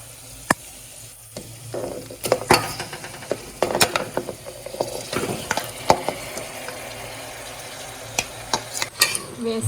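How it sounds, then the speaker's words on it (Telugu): Goat head meat tipped into a hot frying pan and stirred, sizzling steadily while a spatula scrapes and clatters against the metal in repeated sharp knocks, close and fairly loud. "ఇప్పుడు మనం క్లీన్ చేసి పెట్టుకున్న తలకాయ మాంసాన్ని కూడా వేసుకుందాం."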